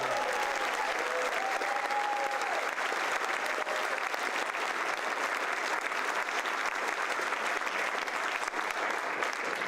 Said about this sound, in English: Would y'all give them a round of applause?